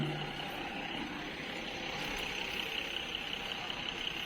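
Buses, including an AC bus, running at Chennai's large bus terminus, giving a steady loud engine drone with busy traffic rumble throughout and no voices.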